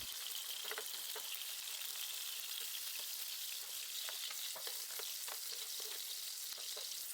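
Duck breast sizzles steadily in a pan after being flipped, with marinade and butter added, giving a continuous close frying hiss dotted with sharp crackles and pops throughout, with no voices.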